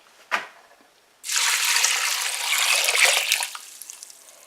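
Water poured from a jar over dried elderberries to make syrup, a steady close splashing pour lasting about three seconds after a brief knock, with no talk.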